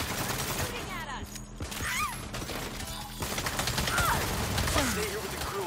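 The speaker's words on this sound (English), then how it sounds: "Shooting at us!" Rapid gunfire from the Saints Row video game crackles in dense, continuous bursts throughout, mixed with game effects while voices speak over it.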